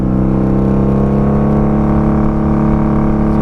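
A 1995 motorcycle fitted with Jardine pipes revs at quarter to half throttle, producing a loud, steady, close-up exhaust drone that holds a fairly even pitch throughout.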